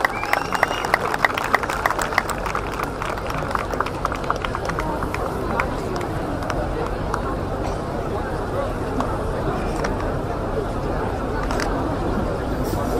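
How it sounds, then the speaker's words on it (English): Applause from a crowd at a company celebration event, with scattered claps and murmuring voices, a steady busy patter throughout. "with a big round of applause"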